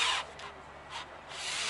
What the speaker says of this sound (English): I'll drill the first two top holes first.